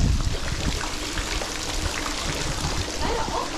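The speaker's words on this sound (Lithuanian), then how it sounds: "fontanėlis." Small fountain on the Polish seaside near Sopot, water trickling and splashing steadily at close range, with a faint voice in the background.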